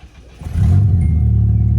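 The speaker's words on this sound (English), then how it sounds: "Pretty smooth start up there." A car engine cranks briefly and catches, settling into a loud, steady low idle right up close.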